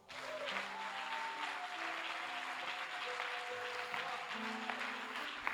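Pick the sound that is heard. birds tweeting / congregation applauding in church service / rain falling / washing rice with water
congregation applauding in church service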